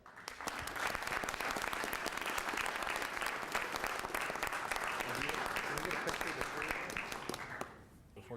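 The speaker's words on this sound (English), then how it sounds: "Please join me in a round of applause." Audience at a city council meeting breaks into sustained applause, a dense steady clatter of many hands lasting several seconds before tapering off near the end.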